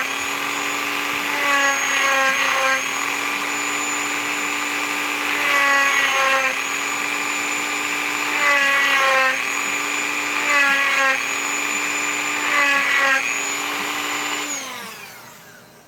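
A sanding pad whirs steadily while polishing a coin ring made from a 1960 Ben Franklin half dollar, with a constant motor hum that swells into rougher grinding bursts every few seconds as the ring is pressed against it, then spins down at the end.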